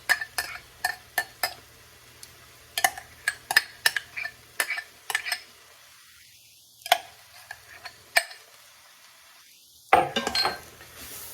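Passata tomato sauce with chili powders and salt being stirred in an Instant Pot, with repeated clinks and taps of a utensil against the pot in irregular bursts, close and with no talk.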